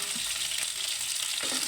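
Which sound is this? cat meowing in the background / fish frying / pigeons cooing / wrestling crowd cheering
fish frying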